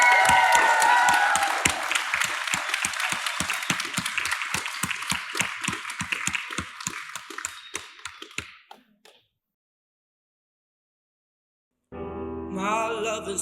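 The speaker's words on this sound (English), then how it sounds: "can we please have the best of order and a massive round of applause for Jaden!" An audience at a talent show claps steadily, the applause thinning out into scattered claps before falling silent, then music begins after a pause.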